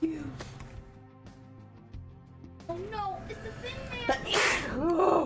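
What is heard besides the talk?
sneeze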